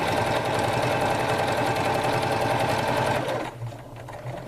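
Sewing machine running steadily while stitching a fabric apron strap, a loud, fast continuous whir that slows and stops near the end, leaving quieter handling sounds.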